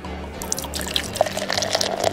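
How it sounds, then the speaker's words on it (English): Nitro cold brew coffee poured into a cup nearby, a gurgling, splashing pour with bright drips and fizzing bursts that grow livelier over a couple of seconds, no speech. "let me pour you some right now"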